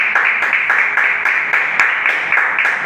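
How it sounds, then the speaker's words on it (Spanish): A church congregation claps loudly and rhythmically in unison, a close, driving beat of applause during an evening service. "Dale un fuerte aplauso al Señor en esta noche"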